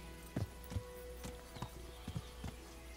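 Horse hooves in Kingdom Come: Deliverance as the horse backs up, a handful of soft, evenly spaced clops over a quiet background.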